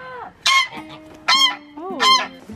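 Farmyard geese honk loudly and close by, three or four harsh honking calls in a loose sequence with brief pauses between, no talking.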